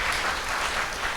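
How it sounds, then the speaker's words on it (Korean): An audience at an inauguration ceremony for a new association president gives dense, steady applause. It is loud and continuous for the whole short stretch, with no voices on top. "다시 한번 큰 감사의 박수를"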